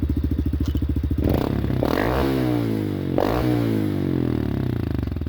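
A Honda Trail motorcycle engine idles with rapid popping exhaust pulses, then revs up hard twice with rising, raspy blasts before settling back into a throbbing idle.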